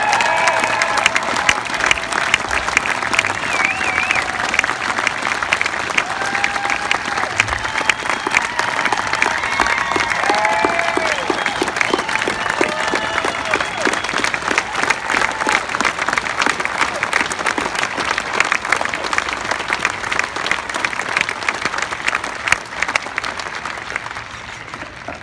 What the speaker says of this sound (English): So now give them a round of applause.